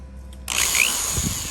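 A power drill spins up abruptly and whines steadily at close range while boring bolt holes for a toolbox on a Kubota L2501 tractor, its high motor tone holding through to the end.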